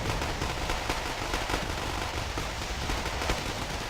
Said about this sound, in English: phantoms dropping in more napalm